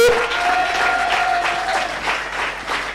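A church congregation applauding loudly and continuously, dense close clapping filling the room, with a brief tonal voice at the start.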